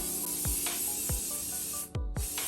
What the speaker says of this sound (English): we get a water ball spray, and we just spray a little bit of water on the front